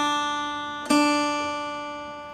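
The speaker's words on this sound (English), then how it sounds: "and then you're going to play the bottom string open, which sounds like this." Single open bottom string on an acoustic guitar, picked once in a delta blues fingerpicking pattern, ringing out and slowly decaying over a faint earlier note, close and alone.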